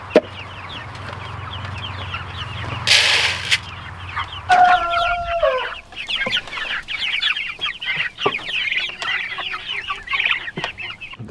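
Turkeys forage on fresh grass at a backyard homestead, giving clucks, gobbling calls and chirps in a busy, close flock sound with scattered bird calls throughout.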